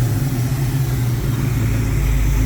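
A 1969 Ford Mustang with a newly upgraded carburetor idles steadily nearby, a low, continuous engine rumble with no talking.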